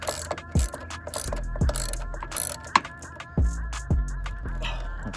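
A ratchet tightens a PCM mounting bolt on a 2006 Dodge Charger RT, giving several short bursts of close, crisp clicking separated by brief pauses, with no talking.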